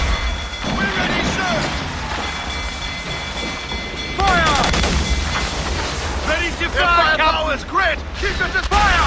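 Pirate ship cannons fire in the naval battle game Assassin's Creed 4 Black Flag, heavy booms and rumbling blasts rolling under loud shouting voices throughout.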